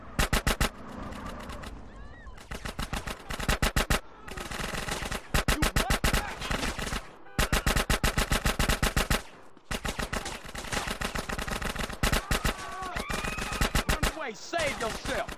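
Rapid automatic gunfire from a Tec-9 in GTA San Andreas on a pier comes in repeated loud bursts of several seconds each, separated by brief pauses, with faint in-game chatter.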